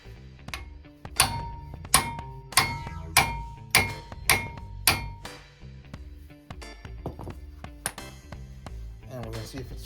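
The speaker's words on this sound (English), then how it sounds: "we're just gonna hammer it" A hammer strikes the brake rotor on the front of a 2014–2020 Acura MDX to free a stuck screw, about eight sharp, ringing metallic blows at an even pace, followed by lighter taps, all close up.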